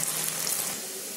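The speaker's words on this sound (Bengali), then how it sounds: "বাকিগুলোকে আমি একইভাবে তেলের মধ্যে দিয়ে ভেজে তুলে নেব" Chushi pitha frying in hot oil, a short, faint, even sizzle and crackle.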